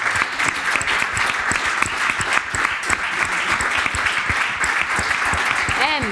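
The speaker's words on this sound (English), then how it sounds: "big round of applause to CargoKite" Loud, dense applause from an event audience after a startup pitch competition result, continuous clapping from many hands with a few cheers, close and sustained.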